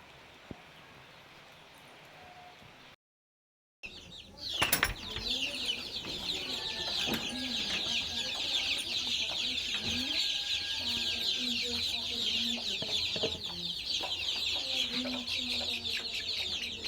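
Chickens cluck and murmur close by in a coop at feeding time, a steady busy chorus of clucks following a brief quiet break and a sharp knock, with soft talking early on.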